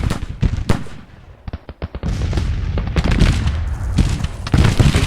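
Artillery fire in the Civil War strategy game Grand Tactician, with loud booming cannon shots in quick irregular bursts, some crackling overlapping volleys, and a dense rumble of continuous fire toward the end.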